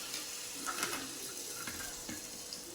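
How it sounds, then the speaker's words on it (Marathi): Sweet puris frying in hot oil: a steady, close, moderately quiet sizzle with bubbling crackle and occasional faint clinks, no voice. "सुंदर अशा पद्धतीने आपल्या छान गोड पुऱ्या आपण तळून घेत आहे"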